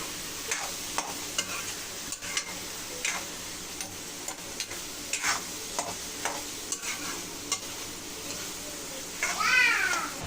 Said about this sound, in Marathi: हे बघा, आता मी 5 ते 10 मिनिटं तरी असं फ्राय केलंय.